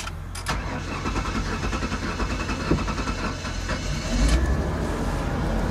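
A car engine is started without a key, cranking and then catching into a loud, rough running rumble that swells near the end, with no talking.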